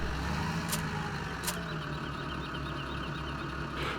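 Tractor engine in Farming Simulator 17 drones steadily at close range, a low continuous rumble with a couple of brief sharp ticks over it and no talk.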